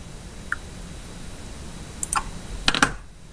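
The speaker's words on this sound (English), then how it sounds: "where I can go by typing in this URL" Light typing on a computer keyboard while entering a web address, a few scattered clicks followed by a quick cluster of keystrokes, close and fairly quiet over a steady background hiss.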